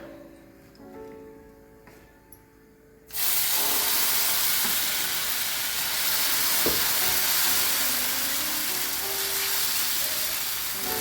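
Egg thalipeeth meets hot oil in a pan with a sudden loud sizzle that stays as a steady, dense hiss, with a faint clink partway through.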